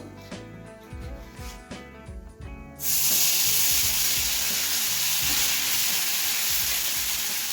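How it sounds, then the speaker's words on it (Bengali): Onion and a single bay leaf hit hot oil in a kadai for an egg paneer curry, bursting into a loud, steady close sizzle partway through after quieter clinks and stirring beforehand. "তেল গরম হয়ে গেছে কড়াতে আমি এখন একটা শুধু একটা তেজপাতা ফোড়ন দেবো দিয়ে আমি পেঁয়াজটা দিয়ে দেবো"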